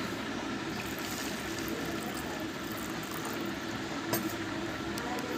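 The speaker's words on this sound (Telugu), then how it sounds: "ఈ యాక్వెజిల్ వాడిన గ్లాసులో కూడా నేను నీరు అనేది పోస్తున్నాను" Water pours steadily into a glass that held a herbicide mixture, a continuous close, fairly loud rushing trickle with a faint voice underneath.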